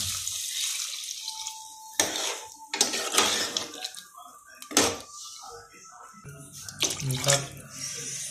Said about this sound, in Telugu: అయితే వాటర్ పోస్తాను.